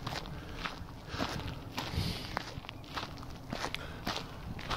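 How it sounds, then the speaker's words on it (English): Footsteps stomping up a hill on a walk along the old Great Central Railway route near Pilsley Colliery, a steady run of near, fairly loud treads with scuffing underfoot and some heavy breathing mixed in. "I'm stomping up a hill now."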